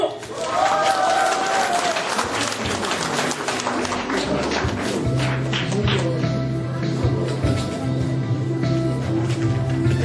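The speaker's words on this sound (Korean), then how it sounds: "여러분들 박수 한번 주세요." Audience at a Korean charity concert applauding a guest being introduced, a full crowd of clapping that swells early then settles into a steady, busy patter, with a low musical tone underneath.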